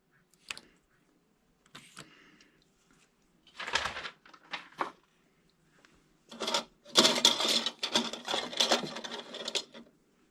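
A Passap E6000 knitting machine knits rows. Its carriage makes short rattling, whirring strokes, first spaced apart and then in a longer, busier run of back-and-forth passes.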